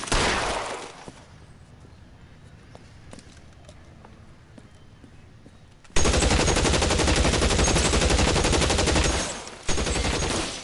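Video game gunfire bursts out loud and dense from about six seconds, rapid automatic shots running nearly continuously for several seconds after a quieter stretch of low background sound.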